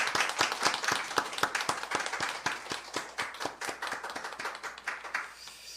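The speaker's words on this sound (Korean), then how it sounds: "하나님께 감사의 박수를 올려드리도록 하시겠습니다." A church congregation claps together in thanks during a Sunday service, a fairly loud, even rhythm of sharp unison claps that keeps a steady beat for several seconds, then loosens slightly near the end.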